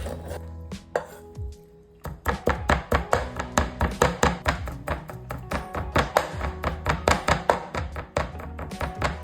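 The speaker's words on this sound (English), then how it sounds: "So you can chop them into tiny pieces." Pork belly is chopped into tiny pieces on a board, a rapid, even series of close knife thunks that runs steadily after a few slower opening cuts, with no talk.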